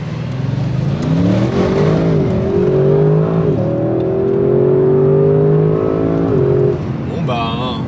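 An Audi RS6 with 600 hp, set to its sportiest engine, gearbox and exhaust modes, accelerates hard in a loud, close engine roar that climbs in pitch, dips at a gear change and climbs again.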